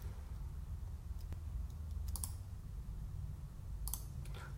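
A computer mouse clicks a few times, sharp and close, with small clusters of light taps that resemble keyboard typing, set over a quiet low room hum.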